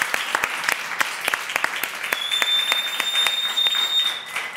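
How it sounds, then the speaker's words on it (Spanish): An audience at a live Spanish-language show claps together for several seconds in dense, steady applause, with a faint thin whistle-like tone rising above the clapping toward the end. "El aplauso para Franzo, que quedó fijo, quedó fijo."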